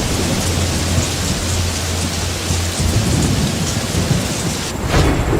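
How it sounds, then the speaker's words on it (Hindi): A dense downpour in a village storm hisses loudly and without pause, low thunder rolling beneath it and a sharper crack of thunder near the end. "अरे भगवान, बारिश तो थमने का नाम ही नहीं ले रही।"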